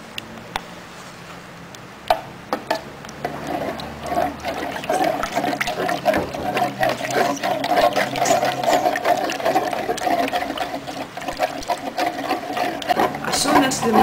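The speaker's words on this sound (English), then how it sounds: "Pour the ZENAMIX and mix, blend it with the water, continue mixing until fully dissolved." A mixer whirs steadily as dishwashing liquid concentrate is blended into water, after a few clicks and a quieter start. A continuous motor drone with splashing churn holds to the end, close and fairly loud, under talk.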